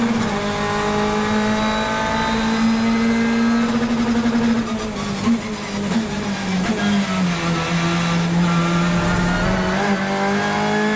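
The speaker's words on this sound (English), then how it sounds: "there's Ingram having a go to Leon, and Shetton gets up the inside, and there's contact" BTCC touring cars race at Snetterton, and engines drone loudly in a sustained high whine that dips and rises as the cars shift and pass, with crowd-like roar underneath.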